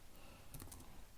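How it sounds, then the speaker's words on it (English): Someone types Korean text on a computer keyboard, giving a short, quiet burst of clicking keystrokes in a small room with no speech. "I'm typing a bit faster already after kind of this sort of a practice"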